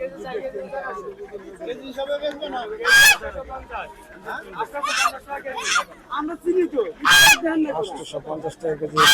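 Geese honk loudly at a busy poultry market, several sharp bursts rising over a hubbub of people talking and bargaining nearby.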